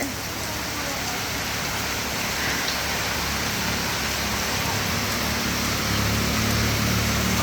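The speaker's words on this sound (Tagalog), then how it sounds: "Grabe, ang lakas ng ulan" Heavy rain pours down steadily as a dense, unbroken hiss that slowly grows slightly louder over several seconds, heard close by with no clear gaps.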